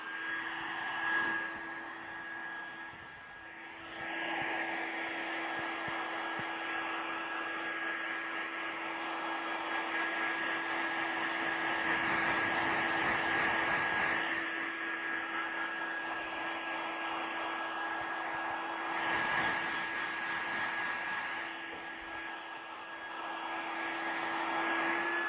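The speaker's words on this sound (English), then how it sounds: "now let me first dry your hair" A hair dryer blows steadily during an electricity and magnetism lecture demonstration, a continuous airy roar that rises and dips slightly in strength over about twenty-five seconds, with no talking.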